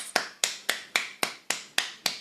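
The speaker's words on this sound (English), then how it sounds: "And another tapping down the side of this arm." Fingertips tap eight times against the body in a steady, even rhythm, each sharp close-up pat standing out clearly against near silence.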